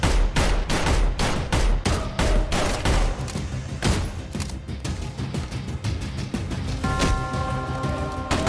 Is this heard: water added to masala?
no